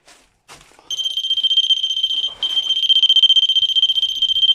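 A REM pod paranormal detector set on a stairway sounds a high, piercing electronic alarm tone that starts abruptly, briefly cuts out, then resumes in rapid pulsing beeps, loud and close.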